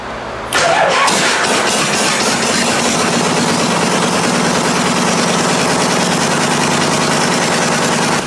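A vintage Harley-Davidson engine fitted with S&S cylinder heads fires up after half a second and keeps running loud and close with a rough, steady rumble through the rest of the clip.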